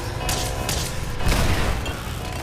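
Missile launcher explosions in Fallout 4 hit close by, giving a dense, rumbling run of blasts and bursts that hold at a steady, loud level throughout.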